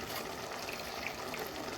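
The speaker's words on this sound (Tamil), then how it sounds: "தேவையான அளவு தண்ணி ஊற்றியாச்சு." Water pours steadily into a pressure cooker of chicken curry with spinach and ridge gourd, a soft continuous splashing rush heard faintly and alone.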